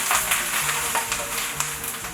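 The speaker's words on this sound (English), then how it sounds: "so right now we're going to hear the sizzle" Olive oil sizzles steadily in a hot pan while frying caponata ingredients, a close crackling hiss with occasional scraping stirs and no talking.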